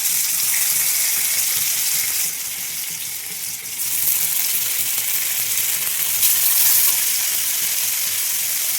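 Four pearl spot fish fry in oil in a pan, giving a loud, continuous crackling sizzle with slight surges and no voices.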